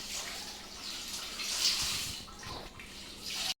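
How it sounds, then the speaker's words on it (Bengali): Water being poured into a pot of country chicken curry as it cooks, a soft continuous splashing pour lasting a few seconds before cutting off abruptly. "পানি দিয়ে দিচ্ছি ভালো করে"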